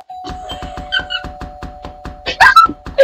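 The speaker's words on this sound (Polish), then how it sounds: "wyjdź przed drzwi i udawaj, że do nich dzwonisz" A doorbell ringing in a Roblox video game, a chiming electronic tone over a steady hum with rhythmic thumps and bright jingly bursts near the end.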